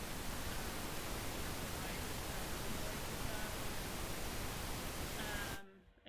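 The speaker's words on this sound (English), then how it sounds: "This is a pink noise." Synthesized pink noise plays as a dense, even hiss at steady level for several seconds, then cuts off abruptly into near silence.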